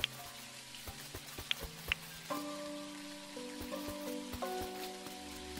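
Rain falling in the video game Dinkum, a soft steady patter with scattered sharper drops, fairly faint and heard alongside gentle sustained musical tones.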